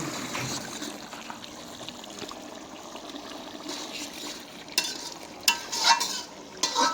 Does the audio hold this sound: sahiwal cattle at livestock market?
no